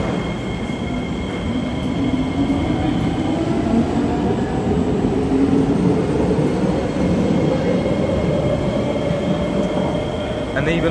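Kawasaki Heavy Industries and Nippon Sharyo C751B metro train in Singapore running at steady speed, a continuous loud rumble of wheels on rail with faint squealing tones and motor whine throughout, no talk.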